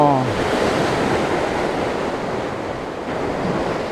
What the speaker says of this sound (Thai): น้ำแรงมากตรงนี้ขึ้นแรงมาก